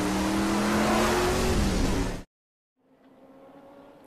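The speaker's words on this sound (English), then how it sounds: "Listen to these cars come to life for that second painted line." Late model stock car engines roar loudly and steadily at the Talladega racetrack, their pitch dipping before the sound cuts off abruptly, then a fainter engine drone returns after a short silence.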